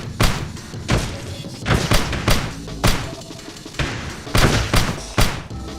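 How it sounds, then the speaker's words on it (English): Adhesive grenades go off in the top-down shooter Teleglitch, a rapid series of loud, heavy thuds and booms that repeat irregularly about a second apart. "I've got plenty of adhesive grenades"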